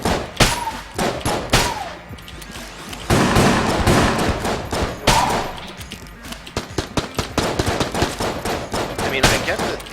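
A stream of bullets in the game Enter the Gungeon: rapid, dense bursts of gunfire, near and loud, with uneven rhythm and brief gaps over ten seconds.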